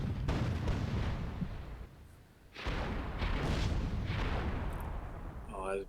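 Cannons and a turret fire in Myth II: Soulblighter WWII battle, heavy booming blasts in dense overlapping bursts with a brief lull midway, loud throughout, and a voice speaking underneath.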